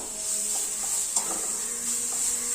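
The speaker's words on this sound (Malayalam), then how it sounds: "എല്ലാം കൂടെ നന്നായിട്ടൊന്ന് മിക്സ് ചെയ്ത് കൊടുക്കാം" Grated carrot mixture for vegetable puttu is stirred in a pan over low flame, with soft scraping and light utensil taps over a faint continuous hiss.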